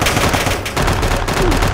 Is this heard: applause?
no